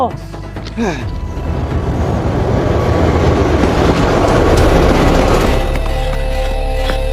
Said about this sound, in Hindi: खुदा बख्श पाकिस्तान जाने वाली ट्रेन आ गई।